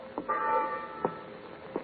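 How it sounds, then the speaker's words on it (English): A ship's watch bell in a 1941 old time radio drama rings in a few distinct, evenly spaced strikes, moderately close, over a faint background hum. "I've been ringing this bell steady, sir."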